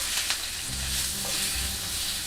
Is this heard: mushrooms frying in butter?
yes